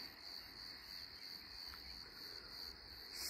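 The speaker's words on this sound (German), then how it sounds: "Die Grillen sind hier auch schon fleißig am Zirpen" Crickets chirp steadily in a continuous high-pitched drone outdoors near Schwetzingen in the Rhein-Neckar region, fairly faint and even throughout, with no talking.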